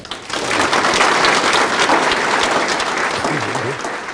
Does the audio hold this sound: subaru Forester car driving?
no